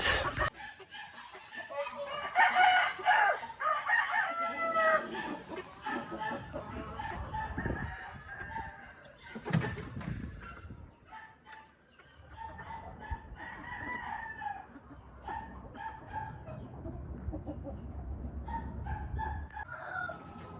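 Several heritage chickens cluck and a rooster crows close by, with scattered bird calls and some background noise throughout.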